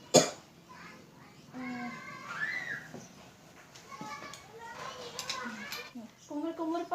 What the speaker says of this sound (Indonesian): Batukan Pak.